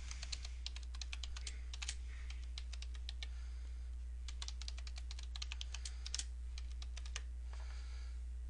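Someone types a password on a computer keyboard during a Windows Server 2008 setup, producing a steady stream of crisp, close keystrokes with short pauses over a constant low electrical hum.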